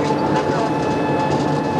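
A TGV high-speed train with 1500-volt DC electric motors runs steadily, its broad rumbling roar and faint tonal whine holding constant and loud with no clear rhythmic clatter.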